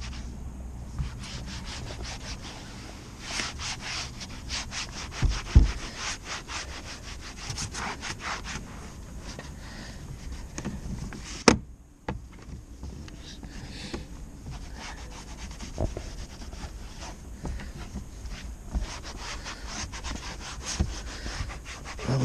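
A cloth scrubs back and forth over car interior plastic with cleaner, a close, steady rubbing rasp in repeated strokes, briefly stopping midway before it starts again, with no talking.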